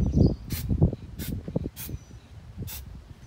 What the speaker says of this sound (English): Just a quick spray, give it a minute to dissipate